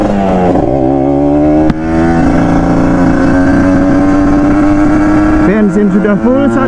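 An older Kawasaki Ninja RR two-stroke motorcycle revs hard right after refueling, a loud, close, buzzing engine climbing and holding high pitch, dipping briefly and rising again, then dropping to a wavering idle near the end.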